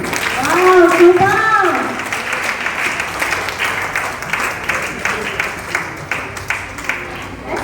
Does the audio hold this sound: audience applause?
yes